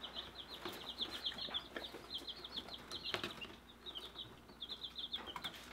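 Young Icelandic chicks, a heritage chicken breed, peeping in a rapid, continuous chorus of high chirps with some rustling and soft fluttering, fairly close and moderately quiet.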